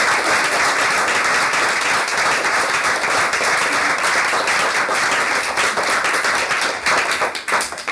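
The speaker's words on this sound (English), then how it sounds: "if we could just give a round of applause again to everyone" An audience at a book launch gives a sustained round of applause, dense and loud clapping that continues steadily for several seconds with no talk over it.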